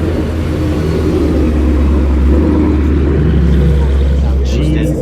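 A Ford 5.0 V8 on a street run makes a loud, close, continuous low rumble with steady throaty drive that stays strong from start to finish.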